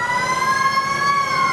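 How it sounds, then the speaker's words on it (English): Wailing ambulance siren on a code 3 emergency run, a loud steady tone that holds and slowly shifts pitch, close by and continuous with no voices. "via ambulance code 3 with licensed sirens"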